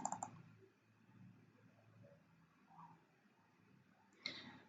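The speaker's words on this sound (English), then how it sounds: "I'm going to go ahead and double click this" Computer mouse clicks, a pair of sharp, close, quiet clicks at the start and another brief click near the end over a faint room hush.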